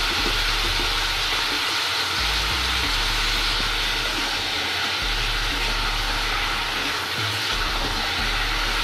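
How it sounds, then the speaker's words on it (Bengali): Beef and potatoes fry in hot oil for Peshawari beef while being stirred. A steady, loud sizzle runs without a break, with a low rumble beneath it and faint scraping of the stirring. "এভাবে করে একটু নেড়ে ভেজে নেব।"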